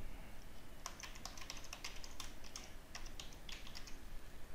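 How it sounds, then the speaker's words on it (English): A password is typed on a standard computer keyboard: a steady, fairly quick run of light clicking keystrokes over a low background hiss, with no voices. "you may also choose to enter your password using the standard keyboard"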